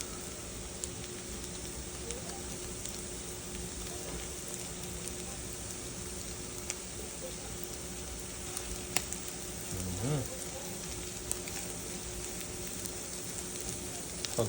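Sisig with chili sizzles and fries steadily in a hot pan, a dense, continuous crackle held at an even level throughout with a few brief clatters near the middle.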